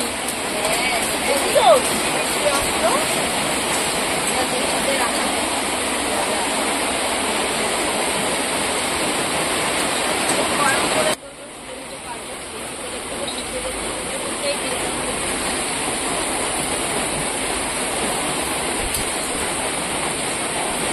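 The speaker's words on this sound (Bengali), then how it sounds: "বৃষ্টি এসে গেল" Rain pouring down in a steady, dense rush, loud at first and then dropping abruptly to a softer, continuing patter about halfway through.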